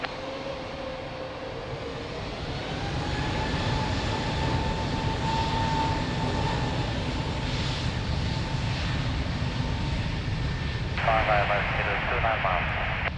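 At Lisbon Airport, an airplane takes off from runway 02 with a broad jet-engine roar that builds and holds at a distance. Radio chatter from the control tower cuts in near the end.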